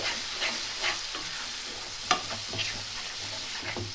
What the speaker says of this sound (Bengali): এবার টমেটো মশলাগুলো আমি ভালো করে কষিয়ে নেব